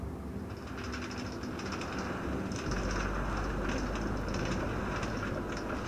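A Far Rockaway bound A train on the New York subway rolling between stations, with a constant low rumble, rattling wheels and faint clicking from the carriage interior, steady and unbroken with no voices.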